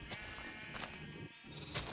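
A sheep bleats in Minecraft on a survival island sheep farm, several short wavering bleats spaced through the moment, faint and close.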